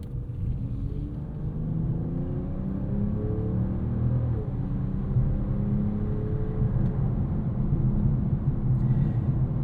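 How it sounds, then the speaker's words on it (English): A Mercedes-AMG E53 wagon's inline-six engine hums low and subdued inside the cabin, a steady muted rumble with faint shifting drone and no talking. "The only thing that's a little bit of a bummer is this engine is very quiet."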